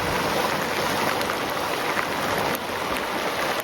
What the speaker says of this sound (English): As the rain pours down